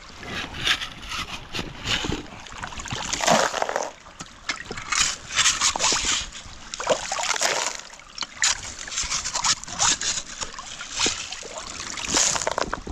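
Shallow creek water trickling and splashing over rocks at a gold and copper deposit, a steady broadband wash with irregular gurgles, fairly close, no talk.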